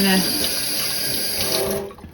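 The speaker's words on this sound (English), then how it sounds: "just gonna rinse this with a little bit of soap just until the water runs clear" Tap water pours steadily into a sink while dyed cotton yarn is rinsed with a little soap, a loud close rushing stream that fades out near the end.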